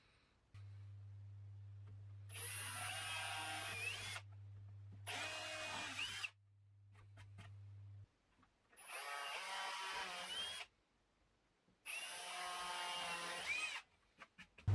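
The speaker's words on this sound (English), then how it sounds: "So now I've drilled the holes out" Power drill boring screw holes in a wooden support leg for a 3D printer enclosure, four separate high-pitched whirring bursts of a couple of seconds each with short pauses between, close and clear over a low steady hum.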